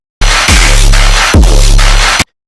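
Loud, dense music with no dynamic swell, pumping flat and squashed at constant volume, the low end throbbing between a few abrupt beat hits.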